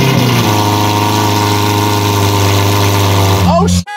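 Twin-turbo Ferrari F12 engine held at a loud, steady high-rev roar close by, then a sudden sharp drop as the throttle cuts, followed by brief clattering and a short voice at the end.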